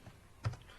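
A single soft keystroke on a computer keyboard, one brief muted tap in a quiet room.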